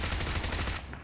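Rapid automatic fire from a PP-19 Bizon submachine gun in PUBG Mobile during a tournament match, a dense continuous burst that ends abruptly near the close.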